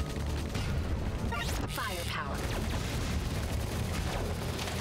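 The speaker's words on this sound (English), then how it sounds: "Heavy machine gun." Heavy machine gun fire in the twin-stick shooter Assault Android Cactus comes as a dense, continuous stream of loud rapid shots layered with explosive impacts, unbroken for the whole stretch.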